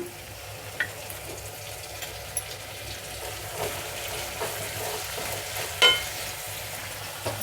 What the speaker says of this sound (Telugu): నూలుకోలు ఉల్లిపాయ చూడండి బాగా వేగిపోయింది ఇప్పుడు మనం ఇందులో టమోటా కట్ చేసి పెట్టుకున్న వేసేద్దాము